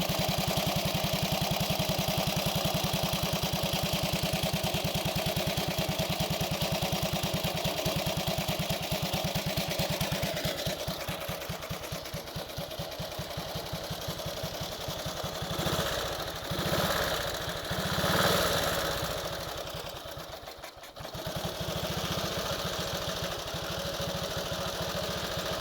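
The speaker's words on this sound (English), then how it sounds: "this engine sounds really tight" A 1924 BSA motorcycle engine idles steadily and loudly for a long stretch, with a fast, even chugging that wavers slightly partway through.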